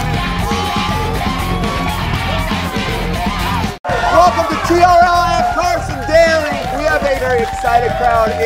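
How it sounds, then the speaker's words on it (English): An excited crowd indoors yells and whoops loudly, voices overlapping in a dense roar with a brief cut of silence midway before the cheering resumes even more intensely. "Excited crowd inside."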